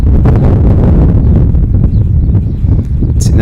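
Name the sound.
wind gusting across a disc golf course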